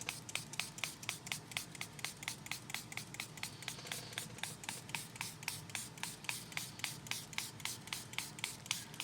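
A spray bottle is pumped again and again in quick, even bursts, spraying water on dry paints, a soft close hiss repeating steadily throughout.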